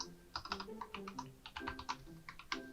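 Someone types an equation on a computer keyboard, producing a quick run of close, distinct key clicks in irregular bursts, with faint background hum in between.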